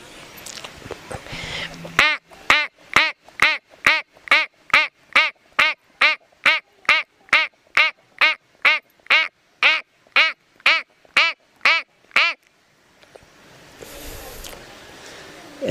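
A man imitates a duck's quack with his voice, giving about twenty-five evenly spaced, loud, nasal quacks in a steady rhythm, close up, with quiet background before and after.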